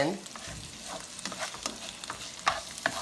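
Chicken sizzles steadily in a hot pan, a constant crackling hiss with occasional sharper pops and stirring scrapes, close by.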